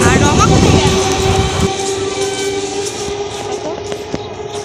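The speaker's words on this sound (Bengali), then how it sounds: "দেখো ট্রেনটা চলে যাচ্ছে এখন" A suburban train heading toward Baruipur pulls away from the platform, its loud close rumble and wheel noise slowly fading, with a sustained horn tone near the start and voices faintly audible beside the track.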